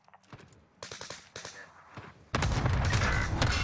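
Cluster strike explosions in the video game Call of Duty: Warzone, a series of sharp blasts building into a dense, loud roaring barrage in the final second, with some speech mixed in early on.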